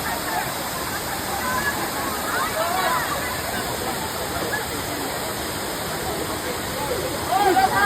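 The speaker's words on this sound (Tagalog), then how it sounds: "This is going down to Kambuga High Waterfalls." Kambuga High Waterfalls on Siquijor island pour with a constant, dense rushing roar, heard close and fairly loud, with some voices at times over it.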